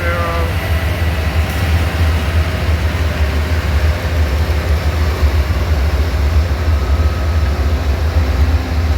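Coal cars on a freight train rumble past nearby in a loud, continuous low roar, with faint squeals near the start.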